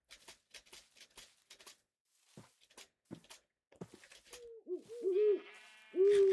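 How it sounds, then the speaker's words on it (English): Owls hoot in a modded video game, two or three low, wavering calls that rise out of a quieter stretch of soft footsteps and clicks. "Owls."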